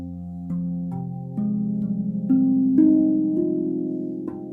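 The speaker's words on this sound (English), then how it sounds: "Now with the soft mallets, these are the biggest soft mallets," Large soft mallets strike a Rav tongue handpan, producing mellow, sustained tones, several notes in succession blending into a smooth, rounded hum.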